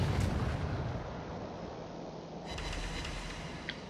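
Naval shells landing and exploding in a warship battle video game, heard as a dense, rumbling barrage of deep booms that swells early, eases, then surges again with brighter crackling impacts near the end.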